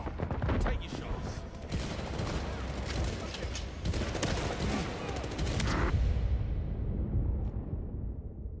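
Dense, continuous gunfire in the video game 007 First Light, a steady barrage of shots with game ambience that cuts off sharply near the end.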